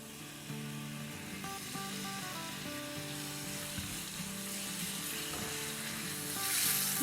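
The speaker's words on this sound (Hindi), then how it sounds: "बस थोड़ा सा सौटे करेंगे जब तक कि इसका थोड़ा सा कलर चेंज ना हो जाए" Chicken pieces sauté in a pan with a steady, even sizzle throughout, close and moderate in level, with light background music and no talk.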